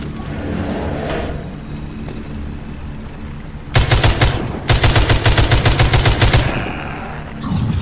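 Rapid gunfire from a shotgun in a zombie mobile video game: a dense burst of loud, closely repeated blasts, a short pause, then another sustained run of shots over a steady background game sound.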